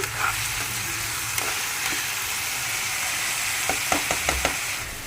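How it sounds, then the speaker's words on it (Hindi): Tomatoes frying in a pan with ginger, garlic, turmeric and salt, giving a steady close sizzle with a few sharp pops and stirring clicks near the end. "टमाटर के साथ अच्छे से भून के लेना"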